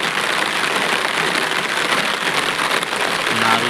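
Steady rain falls near Khari river and a roadside drain, a dense, even hiss holding loud and unbroken throughout with no voices, and a faint low engine hum joining near the end.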